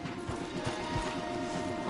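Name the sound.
horse hooves clip-clopping in a video game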